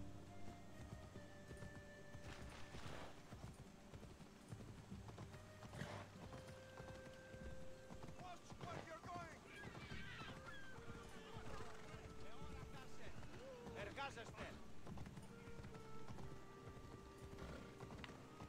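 Horse hooves clip-clopping in Assassin's Creed Odyssey, a steady galloping rhythm under game music and a talking voice, fairly faint throughout.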